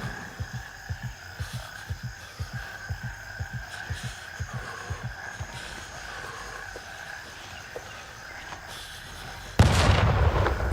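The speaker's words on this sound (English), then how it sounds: "All right, wait for the mortar." Mortar strikes in the shooter game Gray Zone Warfare: a steady series of dull, distant thuds pulses under a low hum, then a louder, closer blast erupts near the end.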